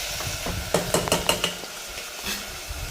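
A spoon stirring vegetable khichdi in a pot, with a quick run of close metallic clinks and scrapes over a soft sizzle, then quieter stirring.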